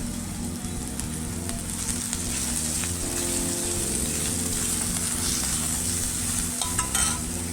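Grated potato and chopped coriander hitting a hot tempering for a soybean kheema curry, a dense continuous sizzle with stirring scrapes, close and steady throughout, without talk.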